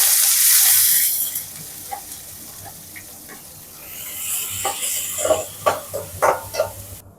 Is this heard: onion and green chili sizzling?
yes